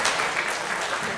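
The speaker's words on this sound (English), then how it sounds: "You can clap, it's okay." A congregation at a family bar mitzvah service bursts into brief, lively clapping that fills the room and is steady from start to finish, with no talk over it.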